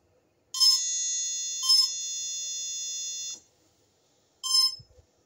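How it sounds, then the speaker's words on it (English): Pixhawk drone ESC calibration tones: a long, steady electronic beep chord of about three seconds, joined by short bleeps before and after, loud and clear with no talking. "there you have the beeping tone for proper ESC calibration being done"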